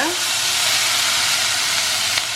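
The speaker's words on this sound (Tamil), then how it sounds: "ஸோ இதை ஆயிலில் வந்து லைட்டாக பிரட்டிடுங்க" Boiled black chickpeas are stirred and fried in hot oil, giving a loud, continuous hiss and sizzle that holds steady from start to finish.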